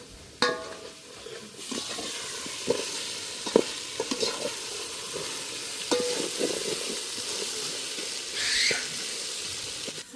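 Tomatoes sauté in a pan as the base for a Sri Lankan, Jaffna-style prawn biryani. A steady close sizzle runs throughout, broken by occasional scraping stirs and light clinks, with no talking.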